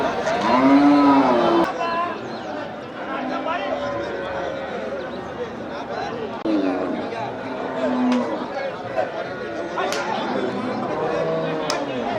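Cattle at a busy cattle market moo loudly several times, drawn-out lowing calls close by over a steady crowd murmur, with people chatting throughout.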